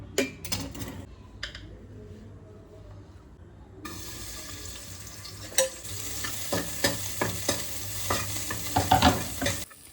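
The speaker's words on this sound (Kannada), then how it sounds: "ಚಿಕನ್ ಒಗ್ಗರಣೆ ಹಾಕೊಬಿಡೋಣ ಅಂತ ಒಗ್ಗರಣೆಗೆ ಹಾಕ್ತಾಯಿದ್ದೀನಿ" Chicken frying in oil with onion and tomato, a soft sizzle that grows louder midway, with stirring scrapes and clinks against the pan.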